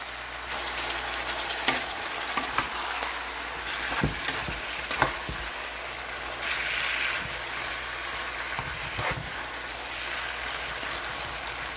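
Dried salted fish escabeche with celery and spices sizzles steadily in a pan, a continuous close hiss broken by occasional clacks of stirring, with no talking.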